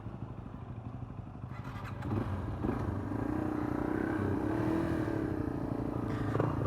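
A Suzuki DRZ400 dual sport motorcycle idles, then rumbles and revs as it pulls away on a forest trail in Pike State Forest, its engine steady and fairly close.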